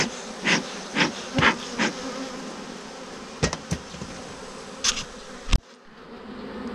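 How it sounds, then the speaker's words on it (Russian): Aggressive bees buzzing close by in short swelling passes around hive frames, with a few sharp knocks and clicks between them. "Но пчела вот агрессивная."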